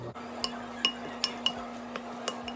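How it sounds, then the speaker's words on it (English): Spoon stirring potato salad in a bowl, a series of crisp clinks against the dish at an uneven, roughly half-second rhythm, close and clear with a steady hum beneath and no talking. "So I'm going to give this a stir"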